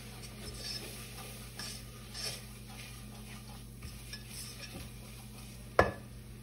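Butter and flour stirred in a pan make a quiet, steady scraping and gentle sizzle, ending in one sharp clink of utensil against the pan.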